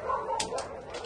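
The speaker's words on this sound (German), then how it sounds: "Wir haben eine super tolle Hündin," A four-year-old female dog gives a few short whimpering yips and a soft bark, close and fairly clear over a quiet indoor background.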